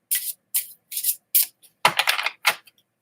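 A deck of cards is shuffled in short crisp bursts, four evenly spaced riffles followed by a longer, denser flurry and a final quick flick, close and clear with no talking.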